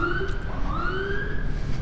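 A whooping siren on a private car pushing through busy Friday-afternoon traffic in downtown Jakarta wails in steady rising and falling sweeps over a dense street rumble, fairly close and alone without talk.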